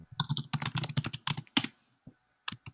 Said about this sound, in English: I think I can hear your typing, Julia.